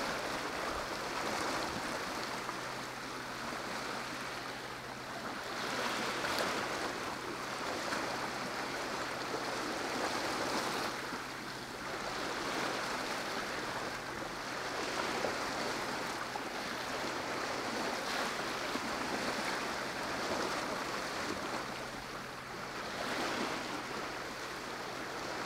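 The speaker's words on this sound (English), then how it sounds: "here's a little bit of light wind sailing with some ambient background noise" Ambient noise aboard a sailboat sailing in light wind: a steady soft wash of water along the hull with gentle wind hiss, swelling and easing in slow waves, quiet and continuous with no voices.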